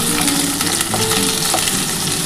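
Spices fry in hot oil in a pan, a dense close sizzle with crackling and stirring over a couple of seconds, loud and unbroken with no voices.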